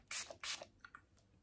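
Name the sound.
Wet n Wild face mist being sprayed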